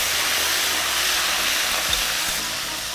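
Ginger paste hits hot oil, giving a continuous, dense sizzling hiss that stays loud and even for the whole stretch, with no talking.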